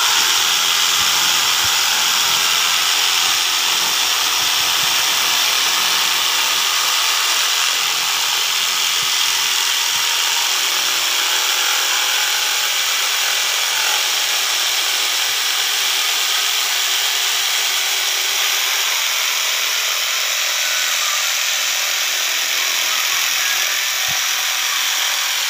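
Electric jigsaw cutting plywood sheet, a loud, steady buzzing rasp that runs continuously for the whole stretch with no pauses and no talk.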